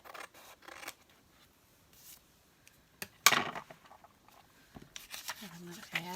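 Scissors snip through paper being trimmed for a crossword collage, a few close crisp cuts with a sharp clip in the middle, while a voice talks softly in between.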